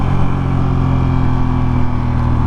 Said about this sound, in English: while you got the throttle engaged, quick shift down with the little auto blip